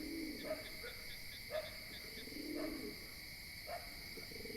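Soft, low pigeon coos repeat every second or so over a steady background hum, fairly distant and quiet; no one speaks.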